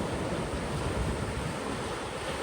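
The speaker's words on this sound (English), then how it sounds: "the beautiful waves that are flowing towards the beach here in Los Cristianos in Tenerife" A steady, dense wash of ocean surf on the beach at Los Cristianos, Tenerife, continuous and fairly loud with no talking, blended with some wind rush.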